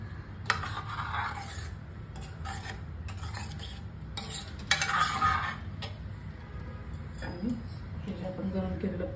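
Chicken is stirred into masala in a pan, with quiet scraping and clinking of a spoon against the pan in short bursts and a faint sizzle, while someone talks.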